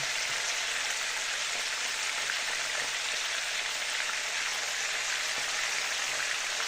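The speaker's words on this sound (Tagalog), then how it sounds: "Nagprito na ako ng isda." Tamban fish fries in a pan with a steady, dense crackling sizzle that holds an even loudness from start to finish, close up and with no talking.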